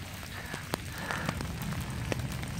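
Steady rain falls on asphalt in a park, a dense even patter with scattered nearby drops ticking sharply through the continuous hiss.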